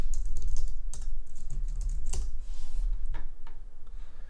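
Rapid typing on a computer keyboard, close and clear, with irregular bursts of key clicks and a few louder taps.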